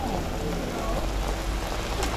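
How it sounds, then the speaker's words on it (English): Light rain patters steadily on surfaces outdoors at a scenic viewpoint in Norway, a close, even hiss of drops with no pauses. "It's not raining that hard,"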